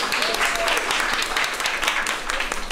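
Audience applause for a singer on stage at a televised gala concert, a loud sustained wash of clapping from a full hall, with no voices over it.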